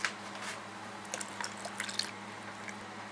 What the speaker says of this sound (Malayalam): ഈ ബൗളൊന്ന് കഴുകി ഒഴിക്കാം.